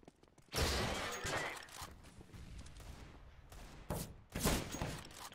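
Scout sniper rifle shots ring out in a Counter-Strike match, a few sharp cracks spaced apart amid quieter in-game background sound.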